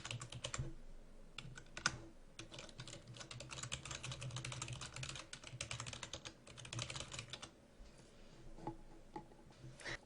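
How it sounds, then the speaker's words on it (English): Computer keyboard typing fills the span as a steady run of close, quick keystrokes with a few short pauses, entering a site name while registering for a Facebook Like button. "type in your site name"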